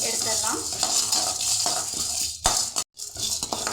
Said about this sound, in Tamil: பெருங்காயத்தை நல்லா வறுத்து எடுத்துடலாம்.